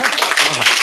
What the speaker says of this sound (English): I'm trying to pull up that darn applause button